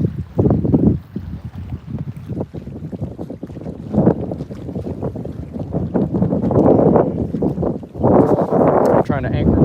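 Strong wind gusting over Lake Travis, buffeting the microphone in loud, rough rushing bursts that swell and ease, with occasional water sounds mixed in.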